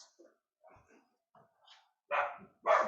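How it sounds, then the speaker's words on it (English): A dog gives a few soft whimpers and small yips, then two loud, sharp barks close by. "no barking. Quiet. Stop."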